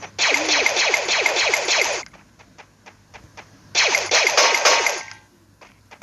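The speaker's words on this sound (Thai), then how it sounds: "เดี๋ยวยิงปืนยาให้" Two quick bursts of rapid healing-gun shots in the Free Fire mobile game, each about two seconds of close, crisp rattling fire, separated by a short pause with scattered single clicks.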